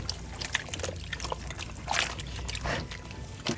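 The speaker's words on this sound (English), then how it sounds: "Just going to massage the lemon water into the turkey." Lemon water is worked into a raw turkey by hand, producing soft wet squishing and trickling sounds, faint and close, with no talking.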